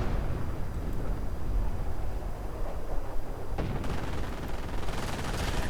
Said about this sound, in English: More artillery going in.